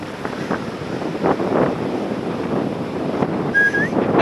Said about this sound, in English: the offshore wind she's blowing